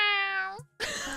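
A person's high, drawn-out meow imitating a male cat, close and loud, followed after a short gap by a second, noisier meow-like call.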